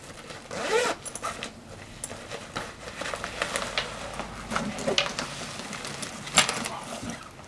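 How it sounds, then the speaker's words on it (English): Zipper on a bag being pulled open and closed, several quick rasping zips close to the microphone, with a scattering of handling noises between them. "The zipper is really smooth."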